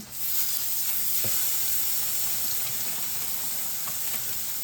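Burger patties sizzle steadily on a hot ceramic grill, a loud, continuous frying hiss with a faint click near the start and no talking.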